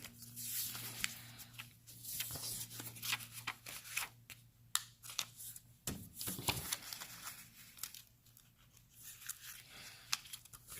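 Cut-out paper foldable being creased and folded by hand, giving soft rustles, crinkles and a few sharp paper snaps at close range, quiet overall with no talk.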